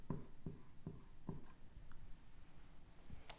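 Pen or marker writing out an equation for an elevator floor's position, several short scratchy strokes in a steady rhythm, close and fairly faint, with no talking.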